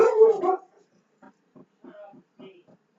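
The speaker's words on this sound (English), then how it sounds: "the dogs are saying hi" A dog gives a loud bark, then several short soft whimpers and yips follow, close by and intermittent.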